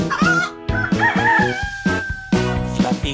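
Rooster crow in a children's farm-animal song, a drawn-out cock-a-doodle-doo over bouncy music with sharp beats, loud and close; the crow may be a sung or voiced imitation rather than a real bird.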